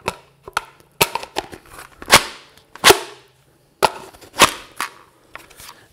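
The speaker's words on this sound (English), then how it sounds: "You would put this mag pouch on your belt, and then you would attach this mag." A tactical magazine clicked and snapped into a mag pouch, close and crisp, a series of sharp plastic clacks and taps spaced irregularly with short quiet gaps between them.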